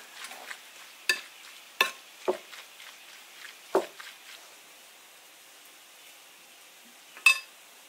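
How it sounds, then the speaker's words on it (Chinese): Soy sauce, cooking wine and pepper being stirred together in a bowl for a stuffing, heard as a few sharp, scattered clinks and scrapes against a faint background hiss, with no talk. "把调料搅拌均匀"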